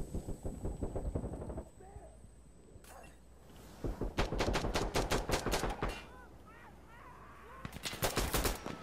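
Rapid bursts of automatic gunfire in the shooter game Insurgency: Sandstorm, two loud volleys of quick repeated shots separated by quieter stretches with brief talk and single pops.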